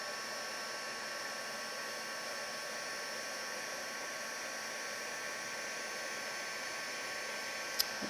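A crafting heat tool blows a steady, even hiss and whir, close and unbroken, while melting embossing powder on a background piece, with a single tiny click near the end and no talking.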